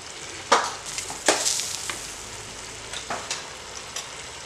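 Masala frying in oil in a pan for an aloo pyaz sabzi, with soft sizzling and a few sharp scraping stirs of the spoon at irregular intervals, close and fairly quiet, no voices.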